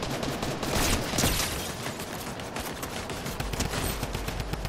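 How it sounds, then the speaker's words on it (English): Video game gunfire rattles in dense, rapid, continuous bursts, a loud unbroken clatter of shots with no pause throughout. "There's someone shooting me over here."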